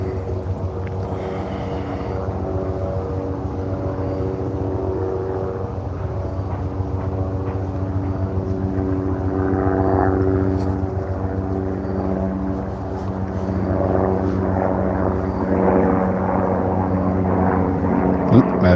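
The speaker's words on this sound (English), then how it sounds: "helicopter going back" A helicopter flies overhead with a steady, loud, droning engine and rotor hum that holds throughout and swells slightly at times.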